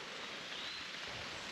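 Steady rain falling at a construction site for a garage foundation, a constant soft hiss with no distinct drops, even and unbroken throughout.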